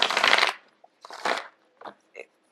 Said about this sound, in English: I'm getting the card shuffled out here